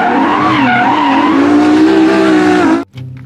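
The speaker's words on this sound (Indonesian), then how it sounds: "Wow, lihat ada mobil balap." A toy race car sound effect plays loudly: a whining engine with tire screech holds steady for nearly three seconds, then cuts off abruptly, leaving a brief faint tail.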